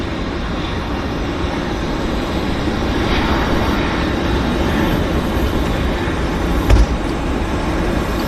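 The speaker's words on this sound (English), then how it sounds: "There's the Airliner." An airliner at Vancouver airport produces a loud, continuous broadband engine rumble that stays steady and slightly swells midway, with a brief thump near the end and no voices.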